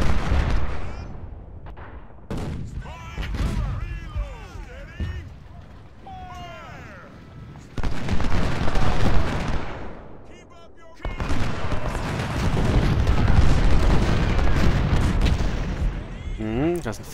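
Booming cannon fire in the video game Ultimate General: Civil War, at the Battle of Richmond, heavy blasts and rumbling bursts recurring throughout, mixed with whistling effects and some talk in the background.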